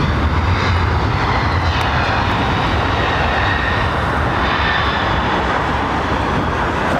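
Airliner landing at London Heathrow Airport with a hard bounce, a loud sustained jet engine roar filling the whole stretch, broad and steady with slight swells, no talking.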